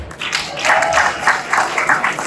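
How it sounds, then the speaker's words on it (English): Crowd at a California Democratic Party convention Progressive Caucus session in Los Angeles applauding the candidates, steady dense clapping with some cheering throughout, fairly loud and close. "another round of applause for all of the candidates"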